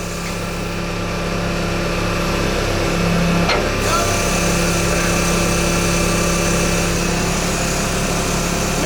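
Crane booming down slightly during steel erection: a loud continuous engine drone with steady hum tones running the whole time, a brief metallic knock near the middle, and no clear speech.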